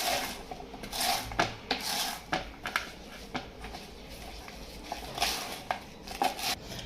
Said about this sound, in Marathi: आपण आळूची पानं आता याच्यामध्ये थोडीशी कट करून टाकणार आहे बारीक चिरून